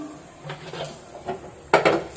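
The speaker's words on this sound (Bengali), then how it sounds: "এবার আমি গ্যাসে কড়াইটা বসিয়ে দিয়েছি" A metal wok set down on a domestic gas stove, giving a few scattered light knocks and scrapes, then a louder clattering contact near the end.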